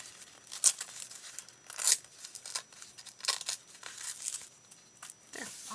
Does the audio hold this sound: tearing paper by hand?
yes